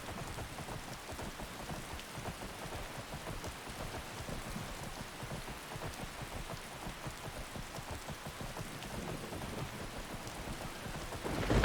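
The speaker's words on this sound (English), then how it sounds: "Kind of hoping it'll stop raining." Steady rain pours down in Skyrim, a constant dense patter with low rumbles of thunder beneath it, continuing throughout and swelling slightly at the end.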